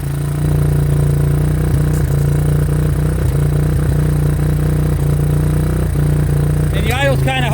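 A 2003 Kawasaki Bayou 250 ATV rescued from a scrap pile idles high and steady, with a loud continuous close engine drone, some light clatter and a brief rattle near the end.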